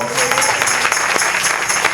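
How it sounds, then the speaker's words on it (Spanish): Brief burst of congregation clapping during a church service, dense and steady with scattered sharper claps, heard close and moderately loud. "¿Cuántos dan un aplauso a Jesucristo?"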